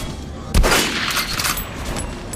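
Gunfire at a shooting range in the video game Last Night, a sharp close shot followed by a rattling burst of echoing reports that fade into a steady background rumble.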